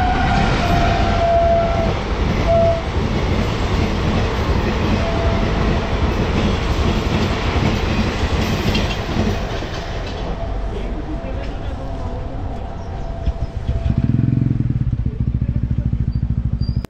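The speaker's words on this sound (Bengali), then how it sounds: "ট্রেনটা যাবে তারপরে আমরা ক্রস করব।" A train rumbles past a level crossing on a single-lane highway near Kolkata, loud and close with a brief horn and rolling wheel clatter, then a motorcycle engine idles as the train fades.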